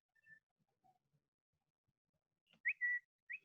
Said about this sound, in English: your phone starts whistling